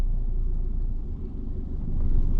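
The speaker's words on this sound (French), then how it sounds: "Je laisse passer la voiture." A car passing in city-centre traffic, a low steady engine rumble close by that swells slightly toward the end.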